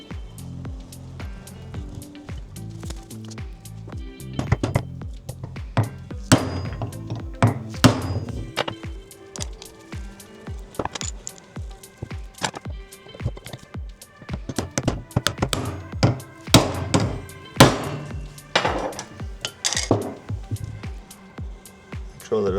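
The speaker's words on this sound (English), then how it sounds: "You can hear the sound change as you're hammering it as well." Repeated metallic hammer blows drive a classic Mini wheel bearing into its metal housing at an uneven pace, some ringing louder than others, the tone shifting slightly as the hammering continues.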